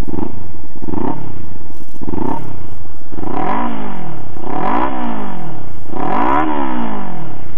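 Close, loud revs from a 2013 Kawasaki Ninja 300 through a Yoshimura exhaust pipe: several repeated throttle blips climbing and falling in pitch, each swelling and dropping back to idle.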